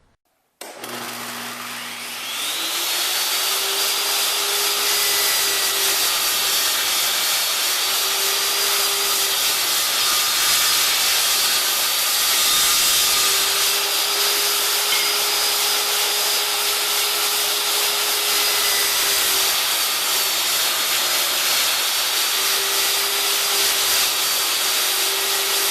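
A table saw spins up and rips 1x4 boards into 1.5 inch strips, a loud, continuous whining roar with a faint steady tone beneath, running alone without a break for over twenty seconds.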